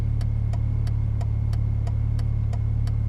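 A Sprintex SPS supercharged 2015 Dodge Challenger with a Pentastar V6 runs at a steady idle, giving a constant low hum with a regular, evenly spaced ticking on top.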